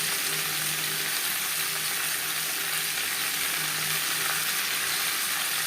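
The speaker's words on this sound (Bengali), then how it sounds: "3-4 মিনিট আলু ভেজে নেওয়ার পর দিয়ে দিলাম টমেটো।" Potatoes and small tomatoes fry in a pan for a fish curry, a continuous loud, close hiss of sizzling oil with faint stirring underneath.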